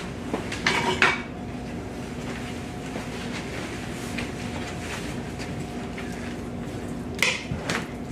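Kitchen utensils clatter as someone rummages for a wooden spoon, with a burst of metallic clinks near the start, a quieter stretch over a low hum, then another short rattle at the end.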